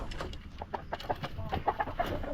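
Rhode Island chickens just starting to lay, clucking softly in a dark pre-dawn coop during egg gathering, a scatter of short repeated clucks over low background noise.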